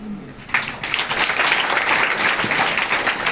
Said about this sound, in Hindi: सभी लोग इस बात के लिए अपने लिए तालियां बजाएंगे।